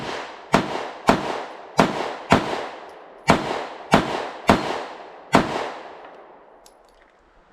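A Ruger Max 9 pistol fires Bellum 9mm 115-grain flat-nose rounds: eight loud, sharp shots at a steady, unhurried pace, each cracking close by and ringing out briefly before the next.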